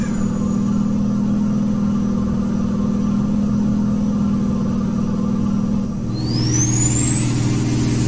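A Kenworth truck engine in American Truck Simulator drones steadily at low pitch, then near the end a rising turbo whine sweeps upward as the engine note shifts and the truck accelerates.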